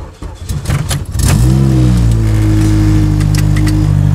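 A K20-engined Honda Civic revs up hard and settles into a loud, steady droning exhaust rumble, heard inside the car, close and deep, with no talking.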